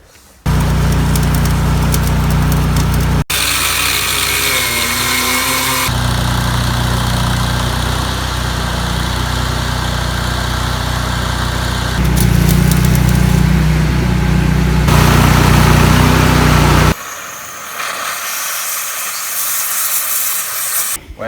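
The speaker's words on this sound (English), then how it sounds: "let's fire up the welder" An engine-driven welder starts and runs, giving a loud continuous engine drone with hissing, the tone shifting abruptly several times before easing off near the end.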